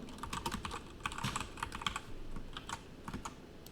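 Rapid, steady typing on a computer keyboard, close and crisp, with dense clicking keystrokes throughout while setting up Rocky Linux 8, no voices.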